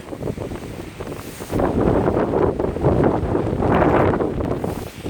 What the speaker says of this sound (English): Don't mind the wind.